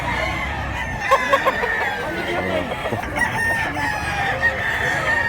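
Roosters crow repeatedly nearby, drawn-out cock-a-doodle calls overlapping with hens clucking in a busy farmyard.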